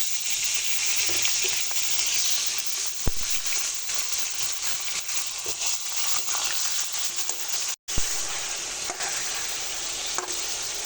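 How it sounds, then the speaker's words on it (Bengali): Chicken pieces fry in a pan with already browned potatoes and onions, a dense close sizzle broken by scraping stirs and a few sharp clacks, with no voices. "এবারে চিকেনটা দিয়ে দেবো"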